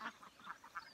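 Ducks on a homestead quack in a quick series of about five nasal calls, close by and fairly faint, with no talk over them.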